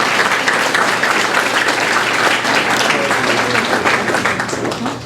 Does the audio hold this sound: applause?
yes